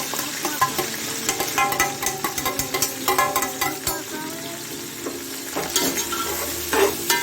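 Chopped onions fry in a pan for quail biryani, with a spoon scraping and stirring through a loud, bright sizzle in uneven bursts and no talking.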